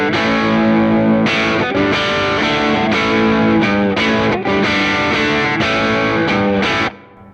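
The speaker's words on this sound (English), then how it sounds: "I'm going to put in a Seymour Duncan 805, which is like a tube screamer." Electric guitar through a Seymour Duncan 805 overdrive pedal, a Tube Screamer-style drive, strummed in loud, sustained distorted chords with a steady rhythm and rapid changes, ending abruptly.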